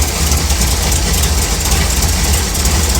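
A 55 Chevy engine with a big camshaft idles at a low speed, a steady loud rumble with a slightly lumpy rhythm, close to the microphone and heard alone.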